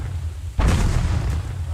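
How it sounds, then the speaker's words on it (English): A grenade goes off in a World War-style shooter game, a sudden booming blast that lands mid-clip and rumbles on loudly through the end. "Ich werfe Granate."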